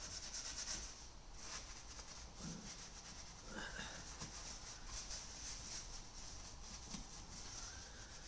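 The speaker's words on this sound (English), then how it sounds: "use a detail factory brush to just get the lather up" A detailing brush scrubs cleaner into a Porsche 911 Turbo leather seat, making soft, quiet, continuous rubbing and bristly swishing strokes up close with no talking.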